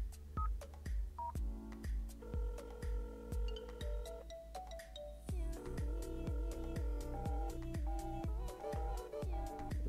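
Phone keypad tones from dialing 911 in the mobile version of GTA 4, a run of short beeps and dual-tone presses in uneven rhythm over a low repeating thump, fairly quiet.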